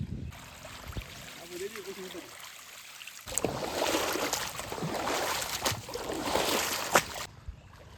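Rainwater rushes and gurgles steadily out of an onion field after a quieter start, a broad flowing wash that stays fairly loud for several seconds.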